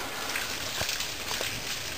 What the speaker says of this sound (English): It's raining really hard out now.